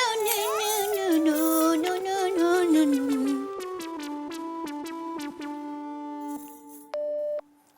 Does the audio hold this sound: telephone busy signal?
yes